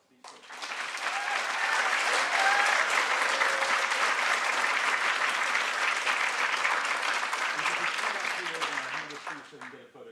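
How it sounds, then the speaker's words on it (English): Sustained audience applause for participants at a university 3-Minute Thesis competition, a dense wash of clapping that swells quickly, holds steady for several seconds, then tapers off at the end. "just another round of applause"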